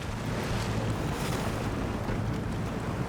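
In the SnowRunner video game, a truck drives through water with a dense, steady churning wash and splash under a low engine rumble, loud and unbroken throughout.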